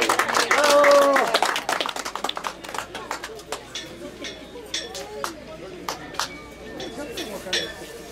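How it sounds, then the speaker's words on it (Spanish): Scattered clapping from a crowd at an outdoor patronal festival for the Cruz de Mayo, with sharp irregular claps, clinks and chatter that thin out over several seconds as voices talk nearby. "¡Un voto de aplauso!"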